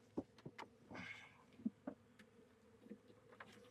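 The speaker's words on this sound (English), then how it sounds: "I have half a mind to just shake these bees out." Honeybees from a small, weak hive cluster buzzing close by around an opened frame, a low steady drone with a few louder passes of single bees, no voices.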